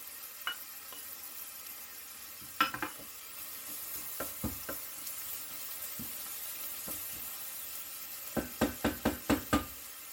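Grated ginger tipped into a pot for Indian coriander and lemon soup, a steady sizzle underneath scattered knocks of a spoon, ending in a quick run of rhythmic stirring taps against the pot.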